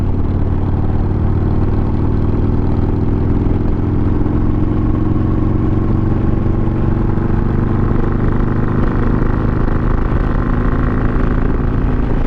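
A Harley-Davidson Iron 883 motorcycle engine pulling at low revs around 2,000 rpm, a loud, steady, deep rumble that holds constant throughout with no talk.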